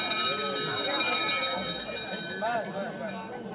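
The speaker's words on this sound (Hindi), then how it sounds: "घंटा बजा दो यहाँ" A large bell rings repeatedly at a Hindu religious ceremony, a kalash yatra and Bhagwat katha in the village of Chhitri, its bright sustained tones layered under steady crowd chatter and nearby voices.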